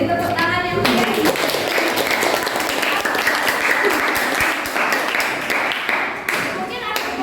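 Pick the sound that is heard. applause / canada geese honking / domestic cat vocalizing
applause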